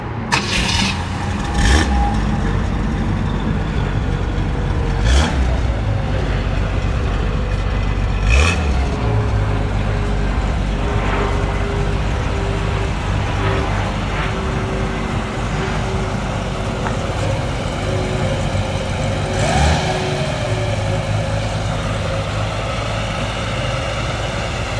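A 1963 Ford Falcon Futura convertible starts up and drives off. The engine rumbles low and steady, sharp transient knocks and clunks stand out, and the engine note rises and falls as it pulls away.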